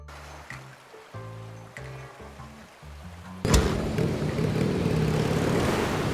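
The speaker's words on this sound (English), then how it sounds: "The engine's roar turns into a gentle purr as we come to a stop in a tranquil part of the sea." A speedboat engine drones on the open ocean, shifting partway through into a broad rushing wash of water and hull noise, loud and continuous with no talk over it.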